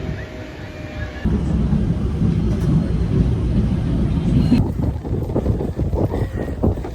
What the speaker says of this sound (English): This tunnel is very windy.